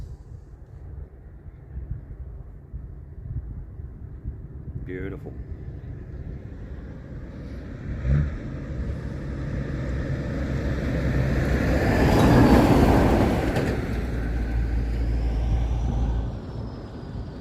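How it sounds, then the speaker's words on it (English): A truck drives past on a rural road near Kerang, heard from a stopped e-bike at the roadside: a low rumble swells to a loud peak and then fades, over steady road and wind noise, with one brief spoken word. "And we'll just let this truck go past before we continue on."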